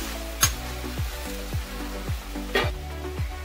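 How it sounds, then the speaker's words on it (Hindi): Vegetables sautéing in a pan for leftover-rice vegetable fried rice, a steady sizzle and crackle broken by regular scraping stirs about every half second, close and clear with no talking. "तो 2 से 3 मिनट इसको मैंने भूना है।"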